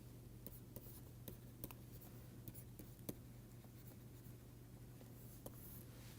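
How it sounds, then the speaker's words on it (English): Chalk or marker scratching and tapping on a board during a machine learning lecture, faint irregular strokes over a steady low hum with no talking. "let me write down the dual"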